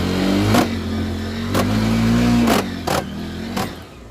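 A motorbike engine revs on a rough, rocky road on the way to a bat cave in Dhading, holding a loud, steady drone with rising pitch and several sharp bumps and knocks along the way.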